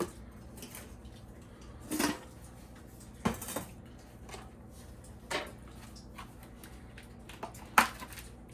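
Saucer-sized camping plates and plastic utensils from a camp kitchen box are handled in a quiet room, giving a few scattered light clacks and taps spaced a second or two apart.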